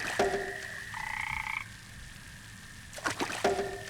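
Frogs croak in a pond within a video game, short pulsing calls near the start and again near the end, with a steady high trilling tone and a brief droning chorus in between.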